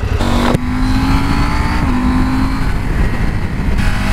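Motorcycle ridden along winding mountain roads in Spain, its engine loud and close, with rising and falling revs, gear changes and a sharp shift near the start, plus buffeting wind noise throughout.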